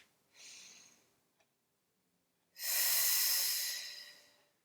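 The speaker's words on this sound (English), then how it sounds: "Couple of breaths here." Deep breaths during a standing posture exercise: a soft inhale near the start, then a longer, louder airy exhale that fades out, close and alone with no talk.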